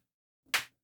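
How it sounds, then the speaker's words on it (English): A single synthesized clap layered with noise gives one short, bright, hissy burst that cuts off quickly, alone against silence. "I have here a sort of a clap with noise."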